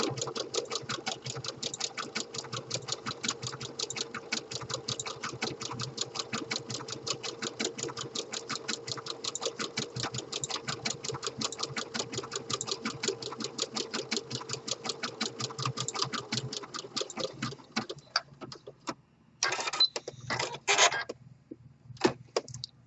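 A home sewing machine stitches an elastic waistband in a steady, rapid mechanical chatter for about eighteen seconds, then slows into a few short bursts and pauses near the end.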